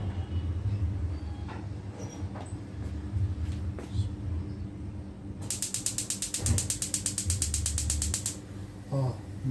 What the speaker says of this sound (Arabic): ادي الشوايه الدواره اهيت انا بركبها وبتشغل